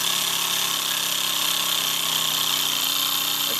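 A Mamod SL3 model steam engine with oscillating pistons runs throttled back at slow speed, giving a steady, even hissing, mechanical drone with no break.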